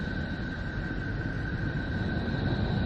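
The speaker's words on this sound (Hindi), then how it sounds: "ये नेपच्यून की आवाज है।" Sonified rendering of planet Neptune, built from electromagnetic vibrations and resembling ocean waves: a continuous dense rushing wash with a steady high tonal hum layered on top, even and unbroken throughout.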